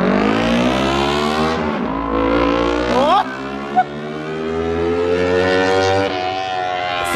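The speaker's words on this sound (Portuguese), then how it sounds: "Acelerou mesmo o bagulho, Cauê?" Kawasaki Ninja 300 motorcycle fitted with an aftermarket exhaust revving loudly up and down through high rpm in repeated rising and falling sweeps, heard close with no one talking.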